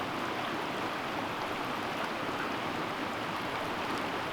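Steady broadband rush of the North Fork of the Mokelumne River flowing at a campsite, an even continuous wash of water with no pauses, moderately loud and alone without talk.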